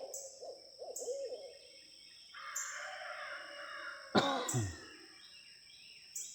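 Owls hoot back and forth on a morning outdoors among peach trees, with a person's voice imitating the hooting at the start, followed by soft, repeated calls and a harsh, cawing burst.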